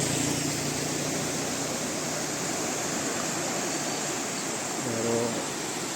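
Chaliyar river at Nilambur runs in flood after a landslide, carrying logs downstream: a loud, continuous rushing roar of water that never lets up.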